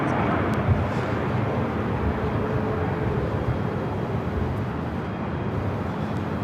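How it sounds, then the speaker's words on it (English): A United Boeing 787-9 Dreamliner jet airliner at LAX gives off a steady broad roar of engine noise, constant and moderately loud throughout, heard from a distance. "This is that United 787-9 Dreamliner."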